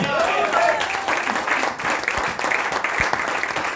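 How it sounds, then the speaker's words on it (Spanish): A church congregation claps during a Spanish-language sermon, loud dense clapping throughout with a few sharper individual claps and some voices mixed in. "Le das palmas a Dios en esta noche."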